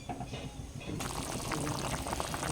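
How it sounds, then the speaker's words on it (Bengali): Water poured into a cooking pot of vegetarian ridge gourd dal, a steady rushing pour that starts about a second in and continues alone over a low kitchen background. "এবার এর মধ্যে জল দিয়ে দেবো।"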